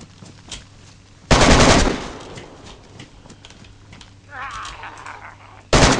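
Gunfire crackles in DayZ, a loud burst of rapid shots up close, another burst near the end, with a voice speaking in between over quieter background noise.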